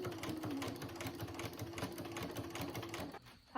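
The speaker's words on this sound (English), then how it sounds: "I still have to sew this top line of the pocket real quick" A sewing machine runs steadily while stitching the top line of a pocket on a thrifted garment, its fast, even needle rhythm loud and close for about three seconds before it briefly stops.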